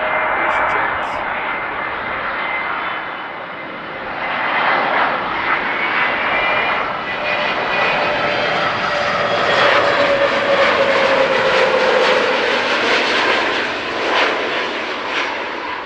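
An EasyJet airliner arrives at Amsterdam Schiphol Airport with a loud, sustained engine roar that swells and whines as it passes, heard from the ground.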